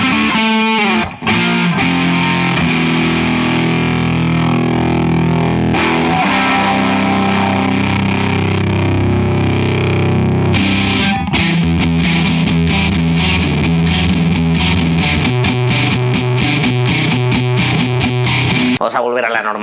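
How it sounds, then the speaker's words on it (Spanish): A heavily distorted electric guitar through a valve amp with a Bugera PS1 power soak, thick, buzzing overdriven chainsaw-like tone, plays sustained chords and then choppy rhythmic strums, loud and continuous. "ya tengo ese sonidazo motosierra de las válvulas"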